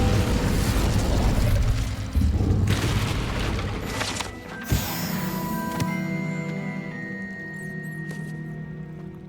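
Incendio fire-spell blast in Hogwarts Legacy: a loud, rumbling burst up front that fades into a lingering shimmering tail and ringing magical tones.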